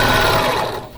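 A sewing machine running steadily through black fabric for a quilt, a close, loud, fast rhythmic whirring chatter of the needle that eases off briefly at the end.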